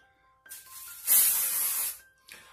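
Batiste dry shampoo spray gives one close, fairly soft aerosol hiss of under a second, with brief faint sounds on either side and no talk.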